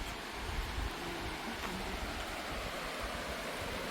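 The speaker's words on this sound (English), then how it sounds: "you can hear, listen to the sound of the waterfall" Ludu waterfall in Daringabadi, Odisha, pours in a steady, broadband rush of falling water, a continuous roar with no breaks and no voices over it.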